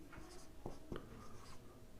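Chalk scratching on a board as the word sine is written during a Class X trigonometry lecture, with several short strokes and taps over low room hum.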